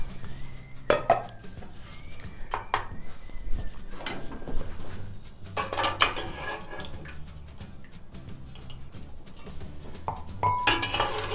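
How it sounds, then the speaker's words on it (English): Clinks of eggs and utensils against a pot as eggs are lifted out of hot water, with scattered clatter and water movement over a steady low background hum. "So I am gonna take these eggs out of this hot water."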